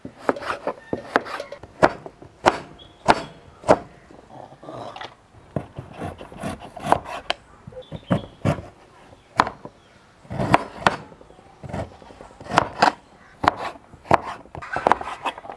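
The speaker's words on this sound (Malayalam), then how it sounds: "ആദ്യം തന്നെ നമ്മൾ ഈ ചേന എടുത്തിട്ട് നല്ലപോലെ അരിയണം" A knife chops elephant foot yam (chena) into pieces, with a long run of sharp, crisp cuts on a board at an irregular but steady pace, close and without talk.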